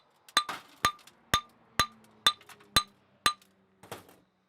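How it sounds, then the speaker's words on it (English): Ceramic shell molds are knocked off metal bolt castings in eight sharp, evenly spaced ringing taps, each a bright clinking strike with a short decay, the last one softer. "Breaking off the shells is definitely the most exciting part of this process"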